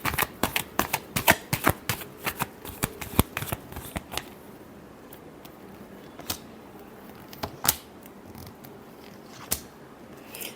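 Tarot cards being shuffled by hand, a rapid run of crisp riffling snaps for about four seconds, then scattered single card slaps and flicks against a quiet background.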